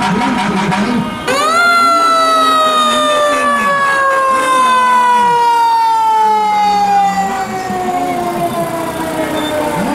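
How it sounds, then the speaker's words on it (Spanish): A siren wails loudly and steadily from a truck in a Christmas caravan parade in Puente Alto, Chile, its pitch holding long sustained tones with a slow downward slide, close by and dominating the scene. "ya comienza a sonar su sirena"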